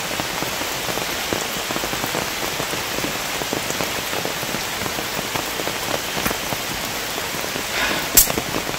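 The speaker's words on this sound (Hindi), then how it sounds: "मौसम में इतनी घनघोर बारिश यहाँ पर सह्याद्री पर्वत में बेल्ट में होती है" Heavy monsoon rain pours in the Western Ghats of the Sahyadri mountains, a loud, dense, unbroken hiss of drops drumming on surfaces, with a sharper spatter near the end.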